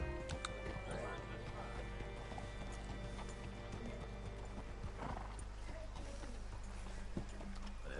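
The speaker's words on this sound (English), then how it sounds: "Hitch your horse up here." Horse hooves clip-clop steadily in Red Dead Redemption 2, with a whinny rising over a constant low rumble of game ambience and faint voices.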